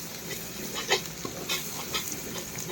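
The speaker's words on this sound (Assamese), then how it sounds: "গৰম তেলত জিৰাকো অকণমান ভাজি লওঁ তেলতে" Cumin seeds frying in hot oil with ginger and garlic, a soft continuous sizzle broken by a few brief crackles and light stirring clinks at close range.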